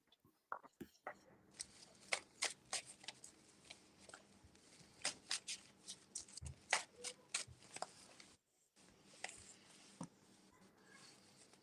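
Playing cards shuffled and riffled in quick crisp bursts, close and fairly quiet, with a short pause before a few more snaps.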